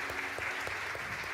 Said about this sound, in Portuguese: A igreja aplaude junto comigo aqui, sejam bem-vindos, todos vocês.